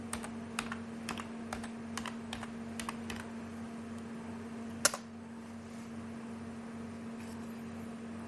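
Keystrokes on a computer keyboard while typing a configure command for a Linrad software build, a sparse run of separate clicks with one sharper tap near the middle over a steady low electrical hum, close and alone without talk.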